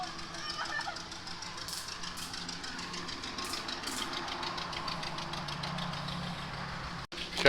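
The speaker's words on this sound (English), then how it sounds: "Boy, that's a nice old tractor." An old Minneapolis Moline tractor engine idles outdoors at a show with a rapid, knocking chug under a noisy crowd, and chickens can be heard faintly nearby.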